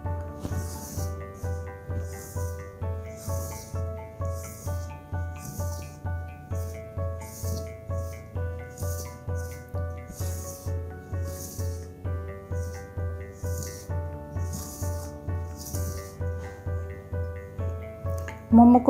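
Momo dough of flour, water and a little salt is kneaded by hand, giving a rhythmic rubbing and pressing sound about once a second under steady background music.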